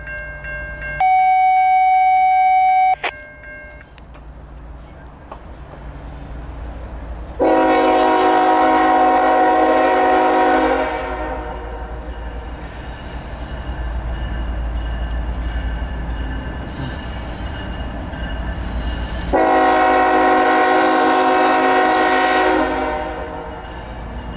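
An eastbound Norfolk Southern freight led by a GE ES44AC locomotive sounds two long, loud horn blasts at a grade crossing in Chesapeake, with a steady rumble of rolling cars between and after the blasts, with a brief bell-like tone early on.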